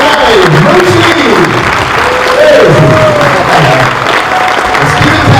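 Loud, sustained clapping from a convention audience at a Q&A panel marking 40 years of the film Christine, with voices talking and cheering over the applause throughout.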